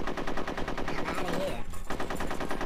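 Rapid automatic gunfire in the multiplayer mode of the video game Conker's Bad Fur Day, a dense continuous burst of loud shots that never pauses, with game sound around it.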